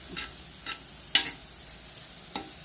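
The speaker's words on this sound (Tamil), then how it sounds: "கொத்து பராட்டா போல் முட்டையை வெங்காயம், குடமிளகாய் கலவையில் போட்டு இது கொத்தி விடவும்." Egg is chopped and stirred into a sizzling onion and capsicum mixture kothu style, with a soft frying hiss broken by four sharp metal taps and scrapes at uneven intervals, one noticeably louder, close by and without speech.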